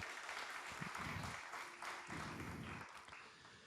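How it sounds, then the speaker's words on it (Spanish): Church congregation applauding loudly during a Spanish-language sermon, dense sustained clapping from a large crowd that swells and carries on with no talk over it. "¿Cuánto le dan un aplauso fuerte a Dios"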